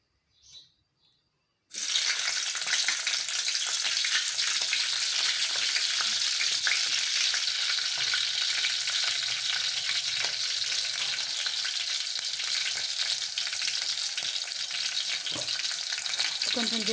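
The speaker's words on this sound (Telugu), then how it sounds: "నూనె వేడొచ్చినాక పచ్చిమిర్చి వేద్దాం." Green chillies dropped into hot oil start a loud, steady sizzle after a brief quiet start with faint clinks, frying continuously close by.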